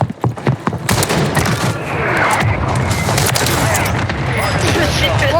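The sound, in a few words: gunfire in Call of Duty: Warzone video game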